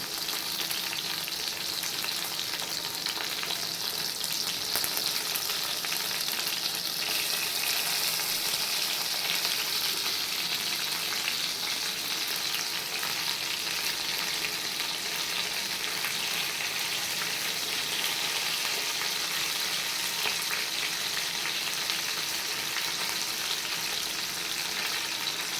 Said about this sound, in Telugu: పోపు వేగిన తర్వాత స్టఫింగ్ చేసుకున్న వంకాయలు ఇలా ఆయిల్లో